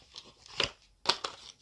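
A cat named Deokgu tearing at paper packaging, producing a few soft, close crinkling and ripping sounds in scattered bursts over quiet background.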